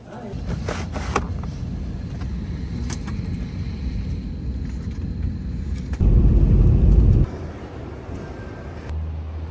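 Steady interior road noise from a car driving on a highway in Toronto, a low continuous rumble that swells louder for a stretch, with a few clicks over it.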